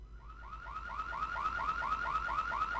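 A car alarm in the video game GTA 3 cycles through fast rising electronic whoops, repeating steadily and growing slightly louder, over a low game hum with no talking.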